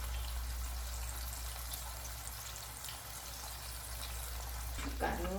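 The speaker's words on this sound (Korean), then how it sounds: "양념이 보글보글 끓어오르죠" Japchae seasoning sauce bubbling and boiling in a pan, a continuous, even hiss with soft gurgling throughout and a faint voice near the end.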